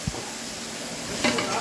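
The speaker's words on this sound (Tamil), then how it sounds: "இஞ்சி பூண்டு பேஸ்ட் சேர்த்த உடனேயே நல்லா கிண்ட ஆரம்பிச்சிருங்க" Mutton with ginger garlic paste is stirred in a pot for kichada, a haleem-style dish, with soft scraping strokes over a low, steady sizzle, and one louder scrape near the end.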